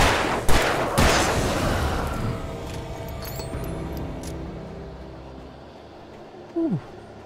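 Pistol and shotgun gunfire in Alan Wake Remastered: a couple of sharp shots early on followed by lingering echoing tails over dark ambient rumble, with a brief short sound near the end.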